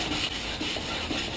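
Wet sanding a plastic headlight on a BMW E90 330i, quiet close-up rubbing strokes in a soft back-and-forth rhythm, about three passes in a brief stretch.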